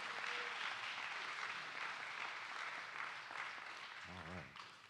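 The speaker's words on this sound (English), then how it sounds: "So let's give Reginald a round of applause" Audience applause at a Young Men United graduation ceremony, a steady broad clatter of many hands lasting several seconds at moderate distance, tapering near the end as a voice briefly cuts in.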